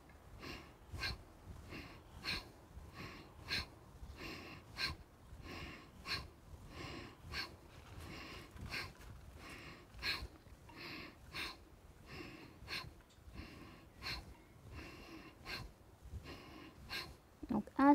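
Deep rhythmic breathing in and out during a qi gong exercise gives a long series of regular, close, airy breath pulses, with a voice talking alongside.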